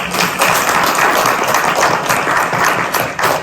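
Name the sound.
applause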